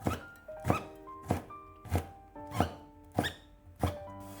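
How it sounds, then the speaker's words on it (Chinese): Knife chopping small bird's eye chili peppers into rings on a cutting board: a steady series of about eight crisp thunks at a relaxed, even rhythm, close and clear with no talking. "几个小米辣切成圈"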